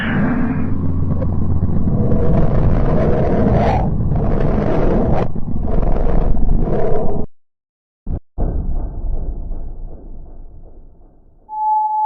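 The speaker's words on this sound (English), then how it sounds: "I actually went ahead and grabbed some real-life sounds that come from space to use for the oblation" Eerie, rumbling electronic-sounding tones recorded from space, with swelling roars and hums, then a sudden cut to near silence and a faint steady drone with a high whine.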